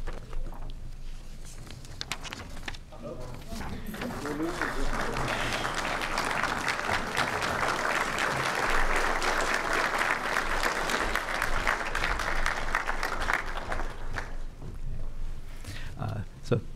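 Applause at a medical school PhD white lab coat ceremony swells from scattered claps into a sustained round of clapping from the audience, then fades into a few trailing claps.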